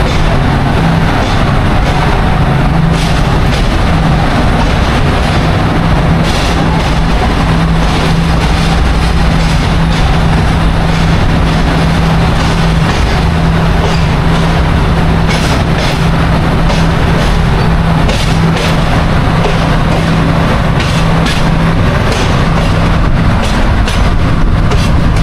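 A train travels on rails between Chittagong and Sylhet, a loud, continuous rumble with a low drone and faint rhythmic clatter, heard from on board throughout.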